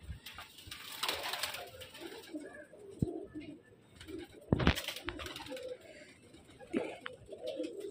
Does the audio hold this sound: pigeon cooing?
yes